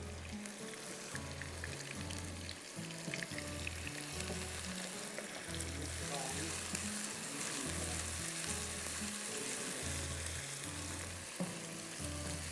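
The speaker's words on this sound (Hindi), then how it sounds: "थोड़ा सा इसको हम फ्राई करेंगे।" Boiled meat (gosht) fries in a karahi for jalfrezi, giving a constant close sizzle with a regular rhythmic low thumping throughout and no voices.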